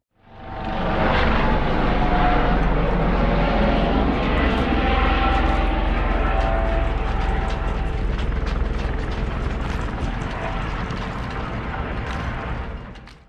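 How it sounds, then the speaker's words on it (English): A Coast Guard helicopter roars overhead, a loud steady rush of engine and rotor noise that swells in quickly and holds, fading slightly toward the end. "I got the Coast Guard getting ready to fly over."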